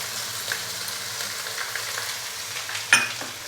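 Ginger garlic paste frying with onions in a pan: a steady close sizzle with a brief louder stirring scrape near the end.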